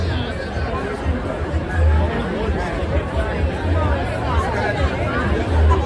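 Steady crowd chatter fills a Midtown Manhattan street on a Friday night, a dense babble of many voices close around with low traffic rumble underneath, constant throughout with no single voice standing out.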